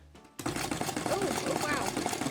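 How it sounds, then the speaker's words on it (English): A Singer Magic Tailor mini sewing machine stitches through scrap fabric, a fast, steady mechanical chatter that starts abruptly and runs continuously at close range. "I think it's going to start stitching when I turn it on."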